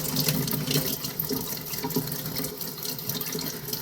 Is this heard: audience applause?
no